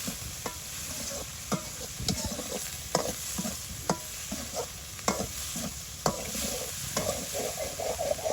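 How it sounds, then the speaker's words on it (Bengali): Small river fish fry with turmeric and salt in a village kitchen on Hatiya. A soft, steady sizzle sits under regular scraping stir strokes about once a second, heard up close with no talking. "এখন হলুদ দিয়েই ভাজা করে নিব।"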